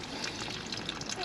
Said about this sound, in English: Just fire some water in, John.